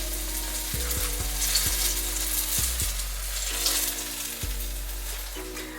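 A mini banana fritter fries in hot oil with a dense, steady sizzle and crackle, close and loud, over a low droning hum that cuts in and out.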